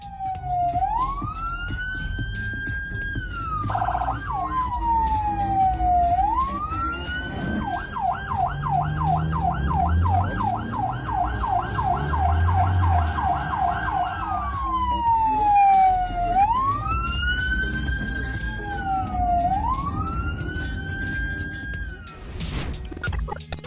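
An ambulance siren in traffic wails loudly and steadily throughout, rising and falling in long sweeps with a faster yelping stretch in the middle. Road and engine rumble runs underneath.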